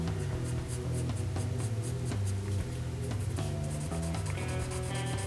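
A pencil scratches crosshatch strokes across paper while shading a face drawing, a steady close rasp of repeated short lines beneath a continuous tonal music bed.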